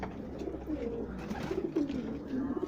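Pet pigeons cooing in low, rolling throaty calls, several overlapping, close by in an aviary with a faint voice nearby.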